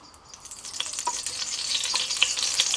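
Oil hits a hot Dutch oven on a braai, breaking into a bright, crackling sizzle that grows steadily louder over a few seconds, close and alone.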